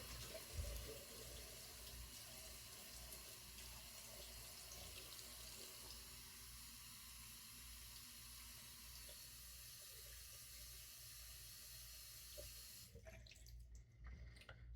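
Tap water running steadily into a sink while a face and shaving brush are wetted before a shave, a continuous close splashing stream that cuts off abruptly near the end.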